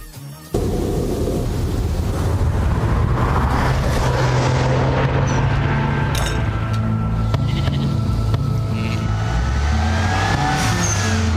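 A turbocharged Porsche engine revs hard in a car commercial, a loud, sustained roar with rising and falling pitch and a turbo whistle, running unbroken for over ten seconds.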